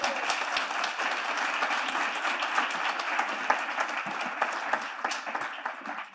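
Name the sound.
applause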